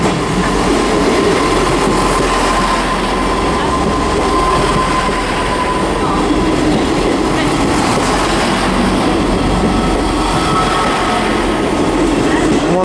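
A Class 158 diesel train rumbles steadily close by for several seconds at Manchester Piccadilly station, with a continuous low engine drone and faint wheel clatter on the rails.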